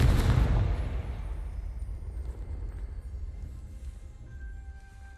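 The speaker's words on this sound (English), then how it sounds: "Expelliarmus! Confringo!" A Confringo spell explosion in the Hogwarts Legacy video game goes off with a loud, sharp blast that rolls into a long, slowly fading rumble, with nobody talking over it.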